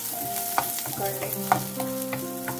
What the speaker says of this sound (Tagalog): mainit na ang ating olive oil. Ilagay po natin ang ating luya.